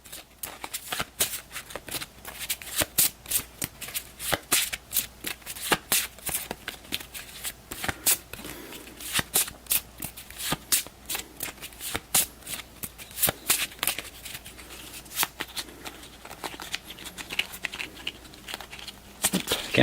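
A deck of event cards for the B-17 Flying Fortress Leader board game is shuffled by hand, giving a long run of quick, crisp riffling and snapping card sounds, close and fairly loud, with no voices.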